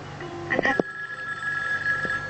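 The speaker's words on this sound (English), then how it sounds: "Kept calling on the phone." A telephone rings faintly with a steady electronic tone, with a short louder ring burst near the start.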